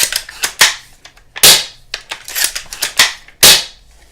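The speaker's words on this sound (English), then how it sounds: "Here's how the bolt works." AGM M700 airsoft bolt action sniper rifle bolt cycled by hand: a sequence of sharp, close metallic clacks and snaps, uneven in spacing, with several louder clicks standing out in a quiet room.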